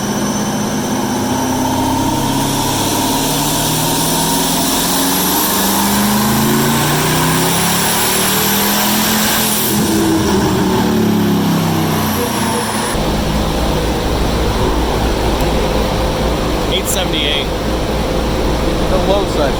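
Supercharged ZL1 Camaro drag car engine droning and pulling steadily at close range, a continuous loud mechanical roar with rising whine, mixed with people talking throughout.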